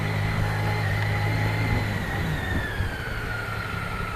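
A BMW K75 motorcycle's three-cylinder, counterbalanced engine laid on its side idles with a steady, smooth low hum and a faint whine drifting downward, close and continuous.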